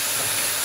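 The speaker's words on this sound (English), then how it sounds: "Rinse them off." Hands rinse under running tap water, a brief, steady, bright hiss of flowing water heard up close with no other sounds.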